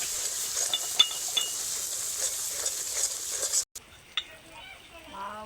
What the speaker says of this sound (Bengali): এবার দিয়ে দিচ্ছি আদা রসুনের পেস্ট।